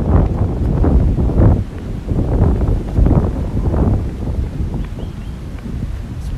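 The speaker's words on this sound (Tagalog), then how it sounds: "Okay, mahangin ngayon." Gusty wind buffets the microphone in low, rumbling bursts, steady through most of the clip with brief dips in between.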